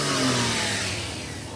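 A turbocharged Daihatsu Mira sits close by as its engine revs. The rev is short and loud and rises quickly before fading a little.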